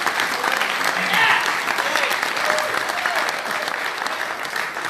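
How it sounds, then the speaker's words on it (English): Sustained, dense applause from a dinner audience at a Pakistan Business Council dinner for the Karachi Kings in Dubai, loud and even throughout the clip with no break. "Ladies and gentlemen, a little bit of applause would be really helpful."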